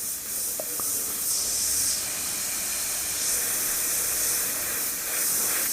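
A steady, airy hiss of an airbrush spraying a thick grey paint mix runs throughout in soft repeated bursts, close and fairly quiet, with no voices.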